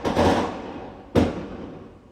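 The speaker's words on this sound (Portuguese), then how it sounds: "Fogos de artifício." Fireworks go off in two loud bursts, the first opening the moment and a second sharp bang about a second later, each followed by a rumbling, crackling decay.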